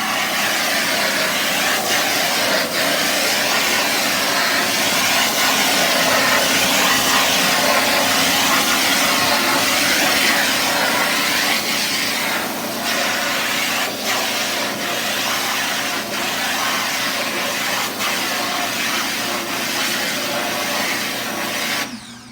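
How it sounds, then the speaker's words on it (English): A power washer blasting a steady high-pressure spray to rinse degreaser off a printing screen, a loud continuous hiss with hard water noise that holds for the whole stretch and fades slightly at the end. "Then you will again use the power washer."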